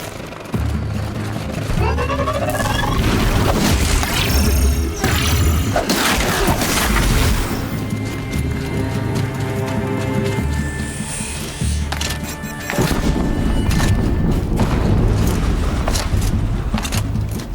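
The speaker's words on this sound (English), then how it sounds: "An explosion." Explosions in the video game Horizon Zero Dawn, loud booming blasts and crashing debris bursts over a dense, continuous battle soundscape.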